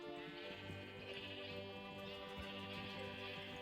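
A sheep in the Terrafirmagreg video game bleats in a sustained, wavering cry against a dense, continuous background of farm-animal noise, faint overall.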